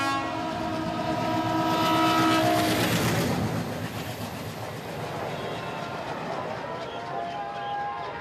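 A Sikh Pilgrim Special passenger train bound for Amritsar rumbles past with a long horn blast early on, then steady wheel clatter and rolling noise that gradually fades.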